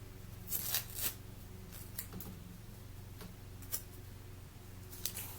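Tape being pulled and pressed down on fabric for a crossbody bag gives soft crackling tears and a few sharp ticks over a low steady hum, with no voices.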